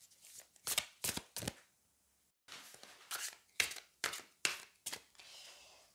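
Tarot cards drawn and shuffled from a deck, a series of crisp papery riffles and slides in short bursts, close and clear, with a brief pause in the middle and no voices.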